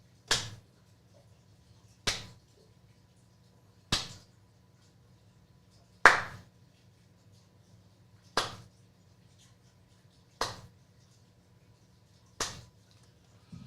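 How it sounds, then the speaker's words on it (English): A slow clap from one person for Eagles fans on a sports talk show: seven sharp single claps, evenly spaced about two seconds apart, each ringing out briefly over a low steady hum, with no talking. "Slow clap"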